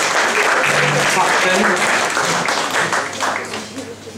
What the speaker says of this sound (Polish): Gorące brawa